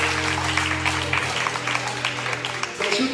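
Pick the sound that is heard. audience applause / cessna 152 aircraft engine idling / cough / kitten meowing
audience applause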